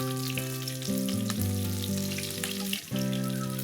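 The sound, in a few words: frying onions for sambal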